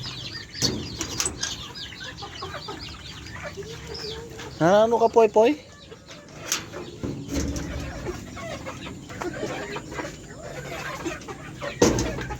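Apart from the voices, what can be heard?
young turkeys and chicks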